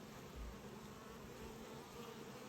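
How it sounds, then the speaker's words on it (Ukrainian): A steady, faint insect buzz hums continuously, like a bee close by, with no voices. "Бачите, бджола працює."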